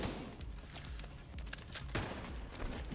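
Sniper rifle fire and scattered gunshots ring out in The Division 2, several sharp cracks punctuating a dense, continuous barrage of game combat noise with no talking.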